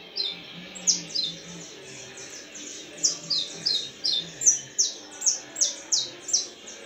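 A young canary sings a series of bright, repeated trilling phrases, loud and close, with rising chirps that come faster and more regular in the second half, over faint room noise.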